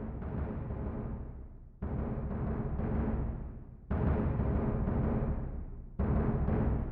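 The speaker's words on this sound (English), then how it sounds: "I'm using bass drum 1 to give a sort of thump rhythm" An orchestral bass drum from Spitfire's BBC Symphony Orchestra, used for the Terminator theme, strikes a steady thumping rhythm of deep, booming hits, each one sustaining and decaying into the next in a regular pattern.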